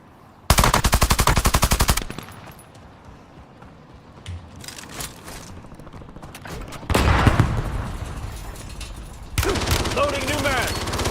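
Bursts of rapid automatic gunfire in the video game Warzone, loud close volleys separated by quieter stretches with game voice lines and background noise.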